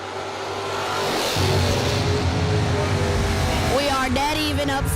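An old-school bracket drag racing car, a Mopar, accelerates hard down the strip with a loud, rising engine roar, while an announcer talks over it.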